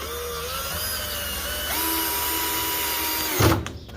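A power drill driving cheap exterior wood screws into a wooden budgie flight cage frame, a steady whining motor hum that shifts pitch as the screw seats, ending in a short louder clunk.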